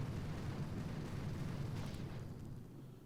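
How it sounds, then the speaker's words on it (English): Barrage of explosions pounding a mortar emplacement in the mobile strategy game Boom Beach, on a volcano stage: a sustained, dense low rumble of blasts that fades slightly toward the end. "So I'm going to shoot a barrage right up around here onto that mortar."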